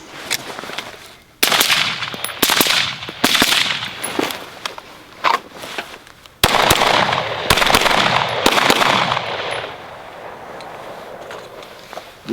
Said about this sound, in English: What I'm going to do is simulate running out of ammo and then a transition to a pistol.